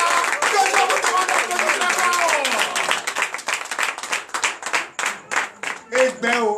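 Congregation clapping during a night deliverance and prophecy service, steady rhythmic claps under a speaking voice, the claps growing more distinct and spaced toward the end.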